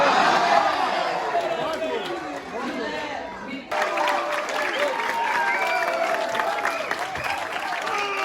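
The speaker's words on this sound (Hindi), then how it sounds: "So as you can see, काफ़ी तालियां बजी हैं इधर।" Applause and crowd chatter from an audience at a university poetry (shayari) competition, with lively clapping and cheering mixed with talk, briefly dipping before resuming.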